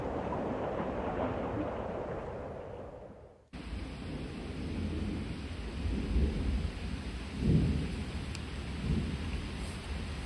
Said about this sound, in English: Doesn't appear to be very windy, just extremely rainy